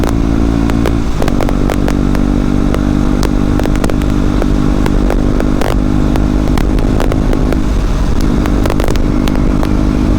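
A 125cc motorcycle with a loud aftermarket exhaust drones steadily and close, with sharp crackles and pops breaking through across the whole ride and no one speaking.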